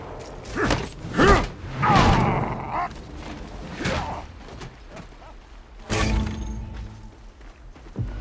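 A weapon is reloaded during an Apex Legends match, heard as a series of close mechanical clicks, clacks and metallic thumps in bursts with short pauses between them.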